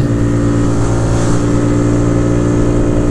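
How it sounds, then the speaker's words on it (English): A 2022 Honda Grom motorcycle with cam, intake and ECU flash mods held in fifth gear at full throttle, a loud, steady, buzzing engine drone with wind rush, unbroken throughout. "So I'm fifth gear right now, throttle pegged."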